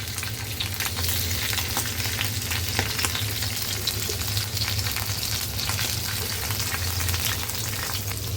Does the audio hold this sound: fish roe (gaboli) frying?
yes